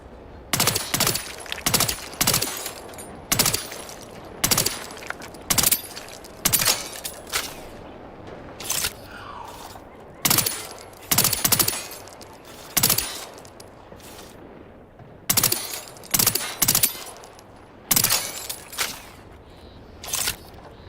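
A silenced machine pistol firing in The Outer Worlds 2 video game: repeated sharp, suppressed bursts in quick clusters, loud and close, continuing steadily with short pauses between volleys and no talking.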